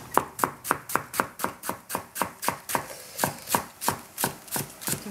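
A fairly blunt knife chops cabbage on a board in a steady, even rhythm of about fifteen crisp strokes, close and clear with no talking.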